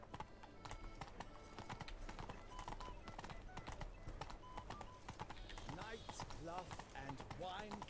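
Roach, a horse in the Witcher 3 video game, trots with steady clip-clop hooves over busy game music, with a brief whinny near the end; the hooves stay close and fairly loud throughout.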